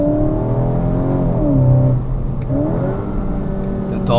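Synthesized engine sound of a Skoda Octavia RS245, played through the car's own cabin speakers, rises and falls in a few rev sweeps with a steady hum between them.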